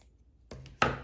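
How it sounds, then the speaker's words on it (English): Scissors snip through wool yarn wound on a plastic pom pom maker, two crisp close cuts, the second sharper and louder, after a near-silent pause. "you are going to close this one right here and you are going to cut"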